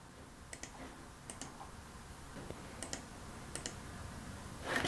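Light, irregular clicks of keys being tapped on a computer keyboard to enter a login password, faint and close against quiet room hiss.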